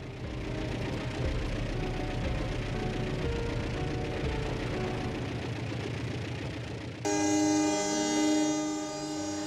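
Passenger train KA134 Kertanegara, hauled by locomotive CC2039815, rolls past Rejotangan station on Java's southern line with a steady, loud rumble, then sounds a sustained multi-tone horn near the end.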